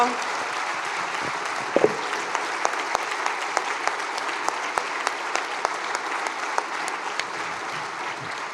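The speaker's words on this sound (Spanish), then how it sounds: "un aplauso de pie, por supuesto" An audience at a panel discussion on strikes gives a standing ovation, steady dense applause at moderate distance with a few sharper individual claps standing out.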